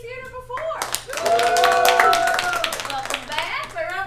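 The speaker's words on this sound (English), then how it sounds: "By round of applause, who's been to Curious Comedy Theater before?" A comedy theatre audience claps in a quick round of applause that starts softly and builds, dense overlapping hand claps under a host's voice talking over the top.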